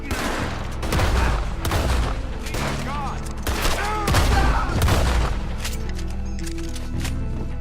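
Rapid gunfire from a Red Dead Redemption 2 shootout, with repeated close, loud shots and booming reports over several seconds, alongside in-game voices and background sound.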